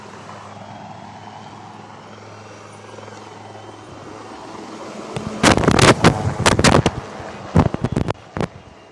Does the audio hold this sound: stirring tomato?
no